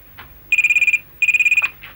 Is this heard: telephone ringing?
yes